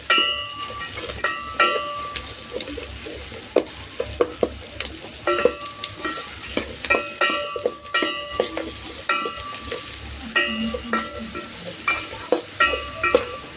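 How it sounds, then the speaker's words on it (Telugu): Onions and green chillies fry in a pan for a Karnataka-style tomato bath, with steady sizzling under repeated scraping and clanking strokes of a spoon stirring through the mixture, fairly close and moderately loud. "అలానే కలుపుతుండండి"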